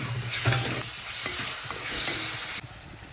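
Two tomatoes frying with turmeric in a pan, giving a steady, close sizzle with stirring scrapes throughout, the sizzle dropping slightly near the end.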